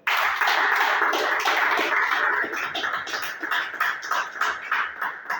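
A church congregation breaks into sustained applause, dense clapping that starts loud and full, then thins and grows more uneven toward the end with scattered louder claps.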